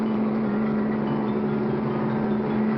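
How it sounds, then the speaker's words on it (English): An armored car in an old cartoon drives toward a bank, a steady low engine rumble with a constant hum, even and unchanging at moderate volume, no voices. "It's an armored car."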